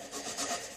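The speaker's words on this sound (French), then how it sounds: "moi j'ai fait avec une scie à métaux comme ça" Raspy back-and-forth scraping of a hacksaw cutting a notch into a wooden clothespin, a short close, steady rubbing stroke with no talking.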